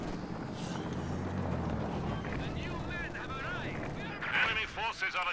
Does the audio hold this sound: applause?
no